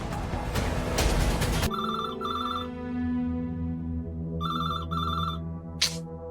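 A landline telephone rings in an electronic double-burst pattern, two pairs of rings separated by a pause, loud and close, following a burst of louder background sound at the start.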